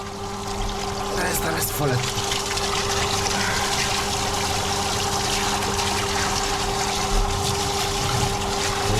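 During pipe cleaning, water flushes and pours continuously through a drain pipe in a close, steady rush, while someone talks briefly over it.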